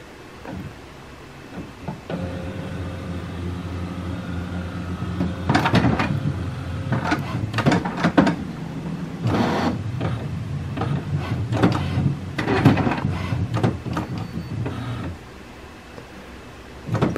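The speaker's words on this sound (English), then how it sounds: "When the printer has finished powering up, you can see that the wireless LED is blinking." An HP Smart Tank all-in-one printer powers up after a factory reset, giving a low motor hum and repeated mechanical clunks, whirs and rattles in uneven bursts, close by and with no talking.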